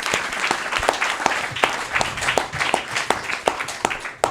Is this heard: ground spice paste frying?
no